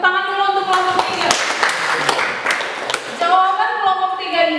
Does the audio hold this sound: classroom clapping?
yes